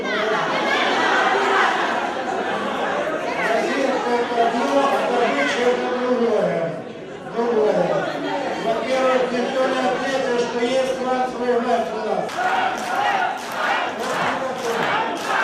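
Crowd of residents at a town council meeting in Izium shouting and clamouring loudly, angry overlapping voices rising and falling, with a brief dip midway before the uproar swells again.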